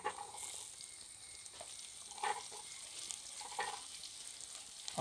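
Sliced onions tossed into a pan with garlic and ginger sizzle and fry for a Kerala-style pork dish, a steady moderate crackle with occasional louder stirring scrapes.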